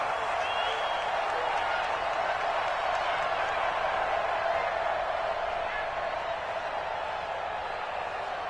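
A stadium crowd in an NFL football video game at a Jacksonville Jaguars home game roars steadily, a dense continuous wash of cheering held at an even level for the whole stretch.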